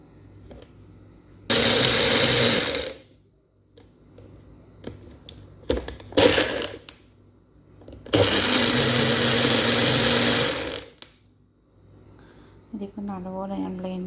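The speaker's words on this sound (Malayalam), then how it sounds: "ഇത്രയും സംഭവം കൂടെ മിക്സിയിൽ നമ്മൾ ബ്ലെൻഡ് ചെയ്യുക." A kitchen mixer blender whirs loudly in two long bursts and a few short pulses as it blends yogurt, coriander leaves, green chillies and salt for chutney, with a person talking in the pauses.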